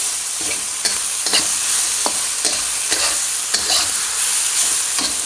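Rice stir-fries loudly with sauce, garlic, onion and ginger in a hot pan, a dense continuous sizzle punctuated by regular scraping tosses roughly every half second.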